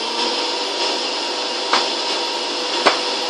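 A Hoover Constellation vacuum cleaner running somewhat roughly, a loud, steady whirring drone held throughout with two faint knocks, and no talking.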